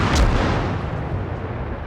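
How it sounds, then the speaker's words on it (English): Naval gunfire from a Farragut destroyer in World of Warships: one sharp, heavy cannon blast up front, then a booming rumble that slowly fades. "I'm going to continue to shoot at him"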